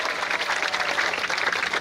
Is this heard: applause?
yes